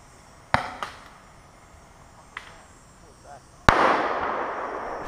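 A video game M203 grenade launcher is fired, and its round explodes far off. Several sharp cracks open the clip, and a loud burst near the end gives way to a sustained, rushing decay.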